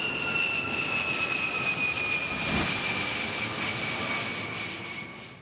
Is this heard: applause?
no